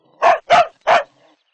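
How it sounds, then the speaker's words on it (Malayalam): A dog barks three times in quick succession at an unfamiliar person, each bark sharp, loud and close, with short gaps between and no voices over them. "നായക്ക് ആളെ പരിചയമില്ലാത്തതുകൊണ്ടാണ് ഈ കുര"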